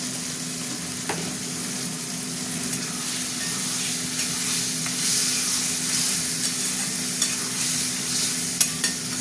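Spices (chili, turmeric and cumin powder) with salt stir-fried in a pan for a vegetable curry: a steady close sizzle with scraping and stirring throughout, no voices.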